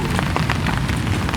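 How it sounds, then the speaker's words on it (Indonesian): Light drizzle falls steadily outdoors on a muddy football training ground, a dense, even patter of rain with no talk. "masih di bawah guyuran hujan gerimis di alam raya"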